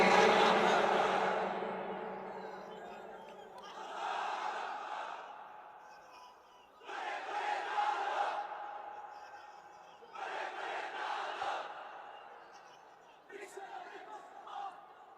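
Large crowd at a sermon gathering roaring a chant in several loud bursts, one after another with pauses between, echoing across an open space; a single voice leads between the calls.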